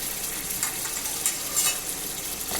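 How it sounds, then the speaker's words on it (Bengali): Teasel gourd pieces fry in a pan with turmeric, chili and salt, giving a continuous close sizzle with a few faint clinks and scrapes of stirring and no voices. "আমি এখন কাঁকরোলগুলো দিয়ে দিব,"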